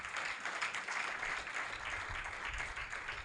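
A church congregation claps in praise of God during a sermon, a fairly faint, continuous patter of many hands heard at a distance.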